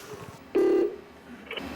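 A telephone rings at a 119 emergency call centre's situation room in Ulsan, a single short, loud electronic ring tone rising briefly out of a quiet room background.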